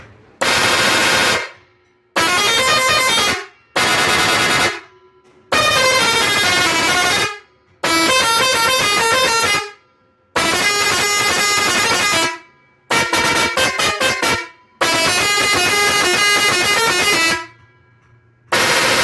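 Special pressure horns for tractors blare in a series of eight loud, sustained blasts, each one or two seconds long with short silent gaps, one burst warbling rapidly; no voices.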